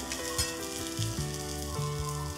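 A moong dal pancake roasts on a hot pan with a loud, steady sizzle that runs unbroken for a couple of seconds, nearby and alone, with a faint tonal hum beneath.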